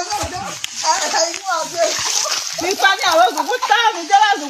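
Water splashes and sloshes as women dig a hole in the ground to collect drinking water, with irregular wet splatters under constant overlapping voices of people and children talking nearby.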